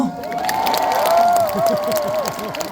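A festival audience at an outdoor closing-ceremony concert gives a loud, sustained round of applause with cheering, a dense wash of clapping and voices filling the whole stretch.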